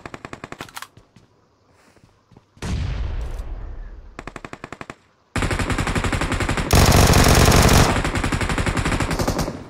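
Gunfire in a battle royale video game, rapid automatic bursts and single cracks with short pauses, ending in long loud sustained volleys, close and dominant.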